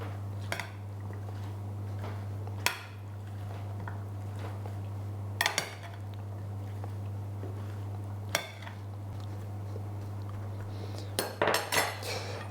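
Chicken strips and button mushrooms are tossed with coconut oil in a baking dish, giving a handful of sharp utensil clinks and scrapes against the dish, scattered and fairly close, over a steady low hum, with no speech.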